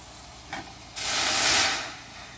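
Water pours into a large cooking pot while making white rice, a steady bright rushing splash that swells for about a second and then tapers off, close and fairly loud, with a short tap just before.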